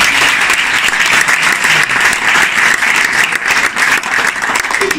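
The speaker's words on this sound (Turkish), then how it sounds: "Kocaman alkışlıyorum ve saygı duyuyorum." Steady, dense applause from an audience at a science heroes reunion event, loud and continuous from start to finish with no break.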